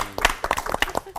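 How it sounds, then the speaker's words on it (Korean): Studio audience clapping for three pastors on a Christian TV talk program, a short burst of sparse, distinct hand claps, close and uneven, lasting barely more than a second. "오늘 귀한 말씀 해주신 세 분의 목사님께 박수 부탁드립니다."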